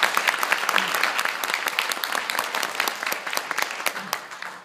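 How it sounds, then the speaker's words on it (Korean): An audience at a Korean civic forum's founding event applauds a guest speaker, a sustained round of many hands clapping, crisp and steady, slowly tapering toward the end. "여러분 큰 박수 부탁드립니다"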